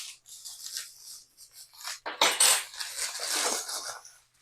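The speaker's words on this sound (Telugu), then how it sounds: "ఇది ఇసుకలో ఓన్లీ కలర్ వేసి మిక్స్ చేయడమే" Hands mix rangoli colour into sand, a close-up gritty rubbing and rustling in irregular bursts that grows denser and louder partway through, with short pauses between.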